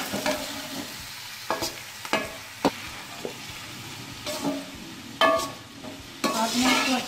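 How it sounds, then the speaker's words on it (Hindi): Chicken pieces frying and being stirred in a pan for a Pakistani bhindi gosht, a steady quiet sizzle broken by repeated scraping stir strokes, close and with no talk. "आपने इसको अच्छी तरह चिकन को फ्राई कर लेना है"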